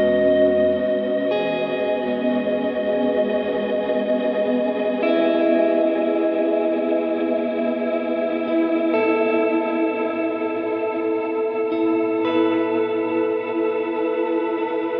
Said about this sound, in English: combining something like the dynamic plate with the particle reverb could get us some results